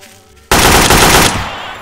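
An AK rifle in Garry's Mod fires a sudden, loud burst of rapid automatic shots. The dense volley lasts under a second, then fades into a ringing tail.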